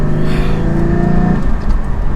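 A Porsche Cayman GT4 engine while driving gently under 3,000 RPM, a loud, steady low drone with a faint rising tonal whine and constant road rumble, heard close from inside the car.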